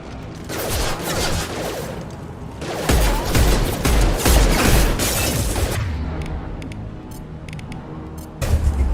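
Gunfire in the video game Mass Effect 2, loud rapid bursts of weapon fire and booming impacts forming a dense barrage that eases off toward the end, then a final burst.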